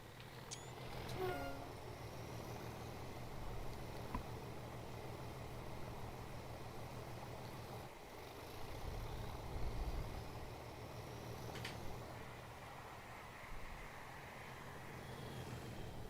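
A Class 37 diesel locomotive in Train Sim has its power shut off and reapplied, a steady low engine drone with rumbling swells and rhythmic rail clatter, plus a brief high horn-like tone near the start.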